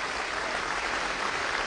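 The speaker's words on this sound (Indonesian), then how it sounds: "Boleh dong tepuk tangan." A brief, dense burst of clapping from a crowd at an anniversary celebration, even and continuous, filling the space with no voices on top.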